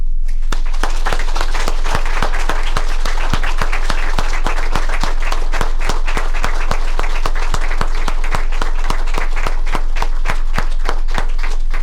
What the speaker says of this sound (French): nous allons chaudement l'applaudir